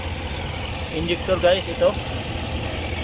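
A Chevrolet Express van engine idles with a cylinder misfire, a low uneven rumble running throughout at close range while someone talks over it briefly.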